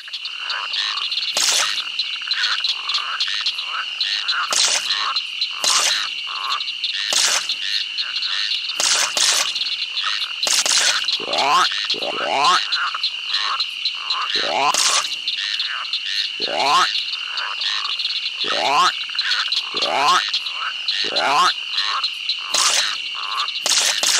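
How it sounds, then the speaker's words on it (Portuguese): Cartoon frogs croak again and again in a 1999 farm-themed children's CD-ROM game, with loud repeated rasping croaks over a constant high, shrill chirring background. "Clique no sapo assim que ouvir."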